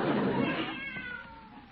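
A brief cat meow, likely a performer imitating it on an old-time radio comedy, drawn out and fading, with a voice-like quality and no clear words.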